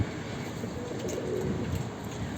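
Pigeons cooing softly in a low, throaty murmur close by, with a steady background rumble.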